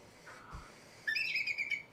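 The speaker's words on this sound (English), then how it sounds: "Dude, that's literally a seagull." A recorded seagull call plays back near a microphone, a short, shrill, wavering cry that follows a fainter tone, against a quiet room.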